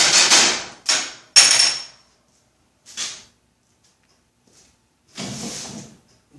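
Sharp metallic hammer strikes while riveting a car body panel, in short loud bursts with pauses between, the last one longer and rougher, close by.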